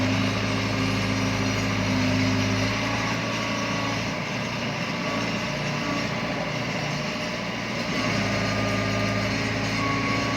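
A yellow JCB excavator engine running in a steady, loud droning hum with a tonal whine, shifting slightly in pitch midway as the load changes, with no voices.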